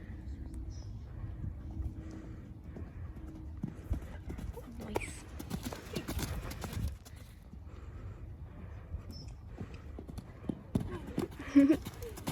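A ridden horse's hooves clip-clop in a steady walking rhythm, near and clear, with occasional snorts, light wind and a person speaking now and then.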